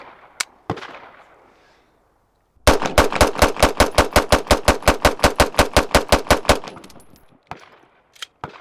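An OA Defense 2311 pistol fires a full magazine at the range, about twenty sharp, loud shots in a quick, even rhythm after a couple of isolated earlier shots, with a few more scattered shots at the end.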